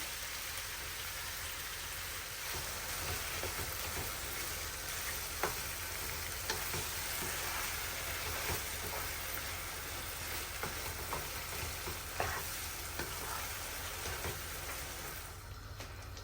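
Ground beef frying with kidney beans and tomato purée for chili con carne makes a steady, soft sizzle throughout, broken by occasional light scrapes and taps of stirring, no voices.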